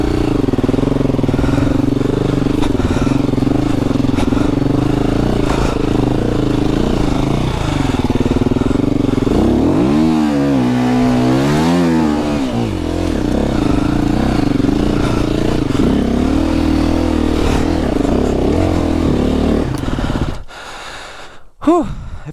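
A KTM 350 dirt bike rides through snow without studs, its engine droning steadily and loud up close, rising into a warbling rev burst midway before cutting out near the end.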